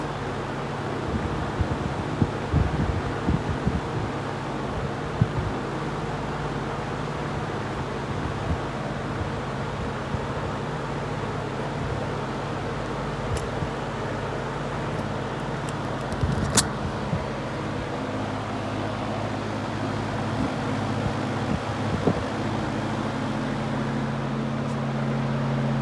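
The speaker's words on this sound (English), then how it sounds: "There's high speed. It makes a decent amount of noise on high," A 1960s General Electric Model F15W12 three-speed box fan runs on high speed with a steady, fairly loud whooshing drone and low hum that holds for nearly half a minute, with occasional faint rattles and no talking.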